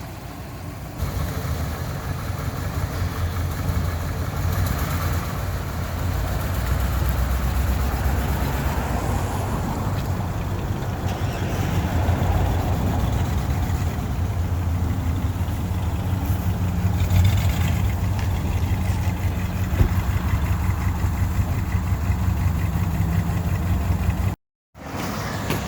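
A 1998 GMC Sierra pickup engine idles steadily after a repair to a burst fuel line, with a low, even rumble that continues unbroken for about twenty-five seconds and no voices over it.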